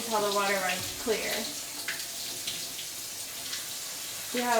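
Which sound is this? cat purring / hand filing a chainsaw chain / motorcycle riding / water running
water running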